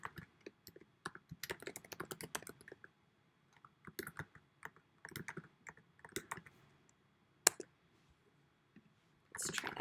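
Password typed on a computer keyboard, quick bursts of close key clicks with short pauses between them, fairly quiet and mostly alone.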